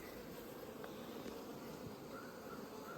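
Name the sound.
bees in a beehive with supers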